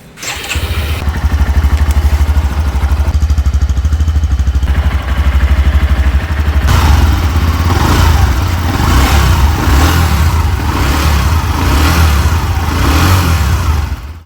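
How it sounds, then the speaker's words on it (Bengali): A yellow 2025 Bajaj Platina 110 FI drum-variant motorcycle, single-barrel exhaust with chrome muffler cover, starts and idles close by, a steady low single-cylinder thrum with a brief rise in revs partway through, heard alone without talk. "তো চলুন বাইকটির ইঞ্জিন সাউন্ড একবার শুনে নেওয়া যাক।"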